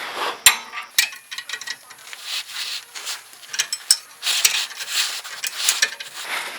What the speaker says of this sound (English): As you thread it in, then you're going to take your 1-inch wrench